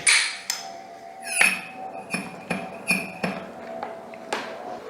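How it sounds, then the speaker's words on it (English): A steel hammer taps metal parts of a Kawasaki KLX 250/300 rear shock absorber, giving about eight sharp, ringing metallic strikes at an uneven, unhurried pace, close and fairly loud. "As I have no rubber hammer, I use a normal one."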